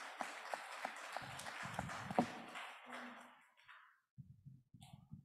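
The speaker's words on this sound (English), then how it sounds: "You can clap." Scattered clapping from a church congregation at a Men's Sunday service, moderately loud for about three seconds, then thinning out into quieter sounds.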